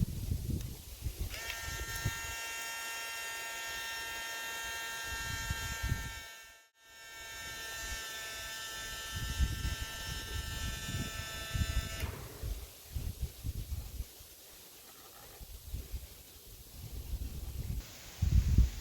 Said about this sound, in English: it's time to fire up the Super Tigre 90.